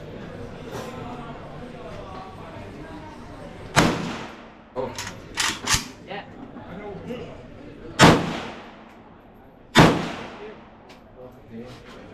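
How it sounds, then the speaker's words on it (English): Several sharp, loud rifle shots from an AK-47 in a video game, ringing out as isolated bursts with short decays over steady background game noise and murmuring voices. "तो भाई हम चला रहे हैं AK-47"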